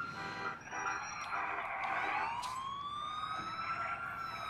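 Ambulance siren in Grand Theft Auto IV, a loud wailing tone that rises and falls through the whole stretch over faint background game noise.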